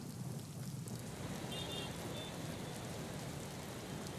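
Heavy rain falls steadily during flooding in Nashik near the Godavari riverbanks, a dense unbroken wash of downpour with no voices.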